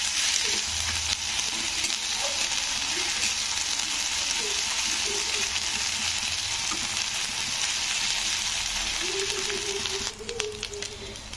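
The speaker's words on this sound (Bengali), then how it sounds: "আদা রসুনের পেস্টটাও কিন্তু নাড়তে হবে যতক্ষণ না আদা রসুনের গন্ধটা কাটছে" Ginger garlic paste frying with onions for soybean curry, a steady loud hiss of sizzling oil with soft stirring scrapes, becoming more uneven with crackles near the end.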